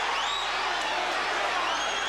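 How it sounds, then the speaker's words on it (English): A boxing arena crowd roars steadily at the start of round three, a broad continuous wash of cheering and whoops with no break. "Round 3, and this crowd is revved up."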